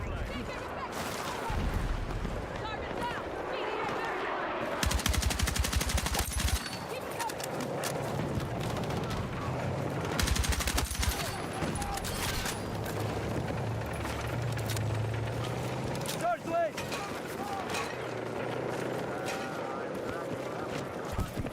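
AK Carbine gunfire in the shooter game Battlefield 6, with bursts of shots at several moments across a long stretch of busy battlefield noise, and a voice talking over it.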